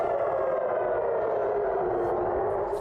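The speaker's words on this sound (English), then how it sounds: "Air raid sirens rang out in Tel Aviv and Jerusalem this morning" A wailing air raid siren in Tel Aviv or Jerusalem drones on continuously, a steady mournful tone that sounds distant and echoing, with nothing else breaking through.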